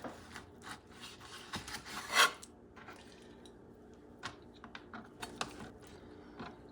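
Knife slicing through pork fat while preparing a Puerto Rican asopao rice stew, producing soft, close rubbing and rasping cuts in short irregular strokes, with one louder scrape partway through.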